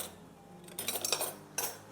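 A metal spoon clinks and scrapes against a cooking pot of couscous rice with chicken gravy, a few short bright knocks in the middle and one more near the end, close and moderately loud.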